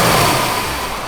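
A 1955 Chevrolet Bel Air engine fires up and revs, a loud, close mid-pitched roar that steadily eases down over about a second.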